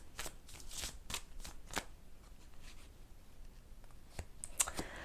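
Tarot cards shuffled and handled up close, a series of quick papery riffles and taps, several sharp flicks early and near the end, quiet and with no voices.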